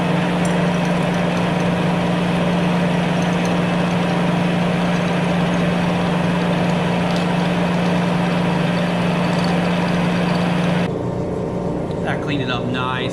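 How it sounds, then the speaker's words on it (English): A milling machine cuts steadily with a 3/4 inch roughing end mill, a loud, even machining drone with a strong sustained hum that stops abruptly near the end. "This time I'm going to run a 3/4 inch roughing end mill"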